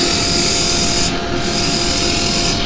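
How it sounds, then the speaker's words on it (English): A hole is drilled into a turned wooden lidded pot spinning on a woodturning lathe, giving a steady, close, continuous grinding and rasping whir with no talk. "just let me drill this hole"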